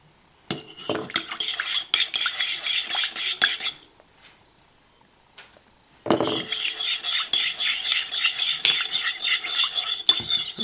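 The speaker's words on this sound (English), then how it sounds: "Mix it all in there real nice and good." A utensil stirs yeast and honey into a pizza dough mixture in a bowl, making rapid scraping and clinking strokes close up in two bursts separated by a short quiet pause.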